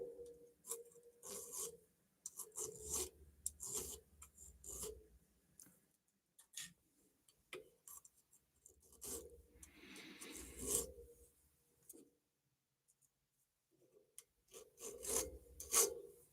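Hand file rasping on a metal bail being made for a Fordite pendant at a jeweler's bench, quiet, close, rhythmic back-and-forth strokes in short runs separated by brief pauses.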